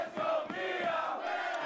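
A wrestling arena crowd at a women's singles match cheers and roars loudly and continuously, a dense wall of voices with a few sharper shouts rising out of it.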